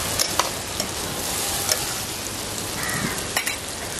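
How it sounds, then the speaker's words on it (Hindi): Tomatoes with turmeric powder fry in a pan over high heat, giving a steady, close sizzle with a few soft scrapes of a stirring spoon and no talking. "हमें टमाटरों के थोड़े से नरम होने तक इसे भूनते रहना है।"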